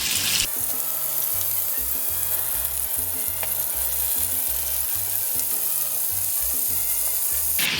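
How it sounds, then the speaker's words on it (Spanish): A steady sizzle of ground beef meatballs frying in hot oil, hissing continuously under background music. "Y así seguimos friendo todas las demás hasta que terminemos con las albóndigas."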